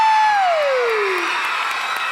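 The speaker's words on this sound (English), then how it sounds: "So if you all will clap and scream loud enough, they might hear us on Main Street." An audience at an arts showcase and campaign kickoff cheers loudly, with a long high scream gliding downward over a dense wash of crowd noise.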